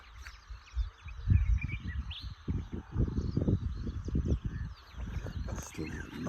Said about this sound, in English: Still lots of birds calling, but the dawn chorus this morning was really good.